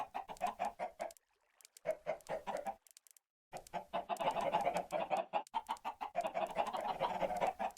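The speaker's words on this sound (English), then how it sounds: "Look at all those chickens." Chickens cluck in the video game Minecraft, a flock giving rapid, repeated clucks that are loud and close, with brief silent gaps and no talking.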